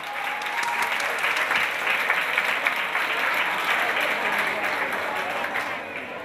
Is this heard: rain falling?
no